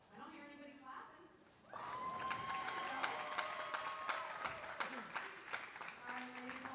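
At a bowling alley during an amateur stepladder final, an audience breaks into a burst of clapping that rises sharply and holds, with scattered sharp claps and a voice speaking underneath.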